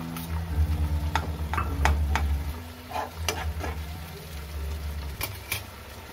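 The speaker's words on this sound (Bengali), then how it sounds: "এটা মানে আস্তে আস্তে সময় নিয়ে 5 থেকে 7 মিনিট মতন নাড়তে হবে এইভাবে" Chopped onions for momo chutney being stirred in a pan, with intermittent spatula scrapes and taps over a low sizzle and a steady hum, close and fairly quiet, with no talking.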